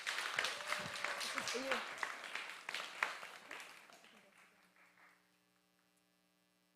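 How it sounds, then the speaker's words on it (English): Audience at a temple applauds a girl, a few seconds of clapping mixed with a spoken line and a low mains hum, the applause fading out to near silence. "Please give her a round of applause."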